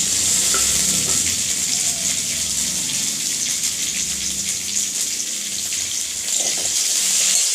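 Okra drops into a kadai with a little oil and fries, making a strong, even, hissing sizzle that carries on without pause and with no talking.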